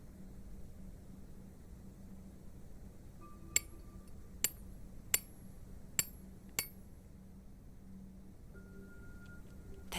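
Chisel chipping at thick plaster in an adventure video game, five sharp metallic clinks spaced about a second apart over a steady low background hum.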